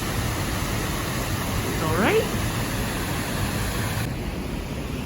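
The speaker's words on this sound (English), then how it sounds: "This is the Öxarárfoss Waterfall" Öxarárfoss, a 20-metre waterfall in Iceland, pours with a steady broadband roar in November, loud and constant throughout, while a person briefly speaks over it.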